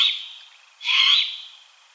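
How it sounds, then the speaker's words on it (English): A great horned owl calls twice: a faint, thin note, then a louder, fuller burst around the middle that fades away. No talking. "you hear the hooting of a great horned owl"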